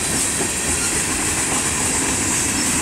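Steady, loud rumble of a Canadian National mixed freight train passing through Effingham, Illinois, with rail clatter and a high hiss running unbroken and close by, no talking.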